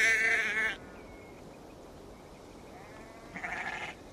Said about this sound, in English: Feed the sheep and see what comes out.